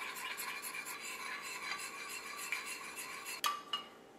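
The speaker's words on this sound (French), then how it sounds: "On mélange bien." A utensil stirs and scrapes rhythmically around a bowl of melted butter for Nutella brownies. Quick, steady strokes come up close and fairly faint, with a couple of sharper clinks near the end.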